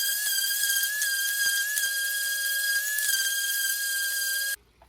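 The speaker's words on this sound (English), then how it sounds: "I'm gonna sand one with the 20 grit and show you one not sanded with the 220 grit" A power sander with 220 grit sandpaper working wood for upper cabinets in a van, giving a steady, high-pitched whine with faint scratchy ticks, close and loud, before it cuts off abruptly near the end.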